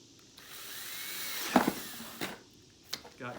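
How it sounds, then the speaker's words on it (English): Power drill boring a hole in the bottom of a plastic Halloween skull, a rising whine that builds over a second and a half before a sharp grinding burst, followed by a few brief clicks and knocks. "I'm going to drill a hole in the bottom"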